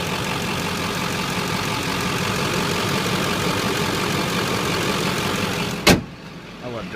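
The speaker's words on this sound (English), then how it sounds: "I love Duramax. They're nice and quiet." A Duramax diesel truck engine idles steadily and fairly quietly for about six seconds, close by, before a sharp thump like a door closing cuts the sound down to a muffled hum.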